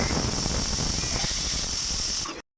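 A pressure cooker of tomatoes lets off a loud, steady steam hiss close by, holding strong for about two seconds before cutting off abruptly.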